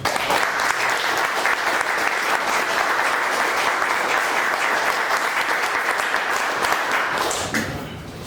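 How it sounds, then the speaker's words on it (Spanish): Loud, dense applause from a large audience pays tribute to Villa El Salvador in Peru, steady and sustained for several seconds before tapering slightly at the end, with no talk over it. "les pido por favor que tributemos un fuerte aplauso"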